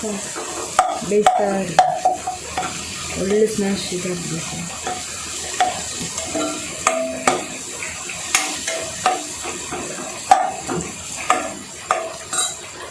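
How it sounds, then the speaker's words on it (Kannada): Tomatoes frying in a pan for hotel-style dal fry, a steady close sizzle broken by repeated scrapes and clinks of a spoon stirring against the pan, with no talking. "ನಾನು ಟೊಮೆಟೊ ಹಾಕ್ತೀನಿ ಅದು ಒಳ್ಳೆ ಫ್ರೈ ಆಗಬೇಕು"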